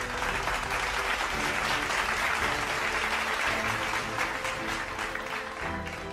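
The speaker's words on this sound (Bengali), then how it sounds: "তার জন্যও একটি জোরে করতালি" An audience at the Tiger Run 2025 event gives a sustained, loud round of applause for the women's second runner-up. The clapping stays dense and even throughout.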